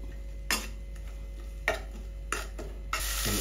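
Spices fry in a pan with a little water and low oil, a faint steady hiss broken by a few sharp scraping stirs against the pan, close by.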